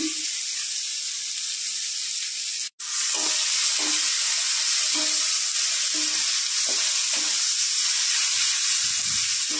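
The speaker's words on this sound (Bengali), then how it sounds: "নাড়াচাড়া করে নেব।" Vegetables fry in a pan with turmeric and salt, giving a loud, steady sizzle and hiss broken by regular stirring scrapes, plus one brief cut-out near the start.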